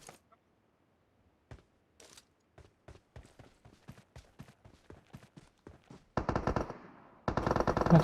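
Gunfire in the mobile battle royale game PUBG Mobile: sparse single shots give way to a rapid run of sharp, evenly spaced cracks, then two loud, dense bursts near the end.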